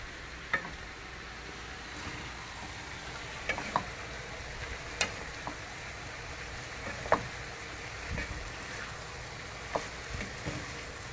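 Food stir-fried in a pan with soy sauce, sugar and black pepper: a quiet steady sizzle broken by scattered sharp clicks and scrapes of a utensil against the pan, close and without talk.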